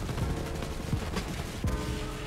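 Rapid, dense gunfire in a Borderlands 3 shootout from an assault rifle that fires rockets, with overlapping bursts and booming impacts packed tightly together, loud and continuous.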